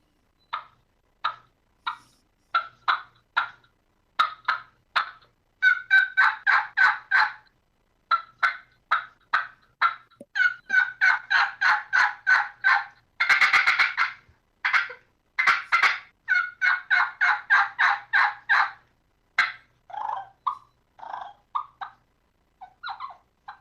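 A diaphragm mouth call imitates turkey sounds: sharp clucks, then long runs of rapid rhythmic yelps and cutts, loud and close, broken by brief pauses.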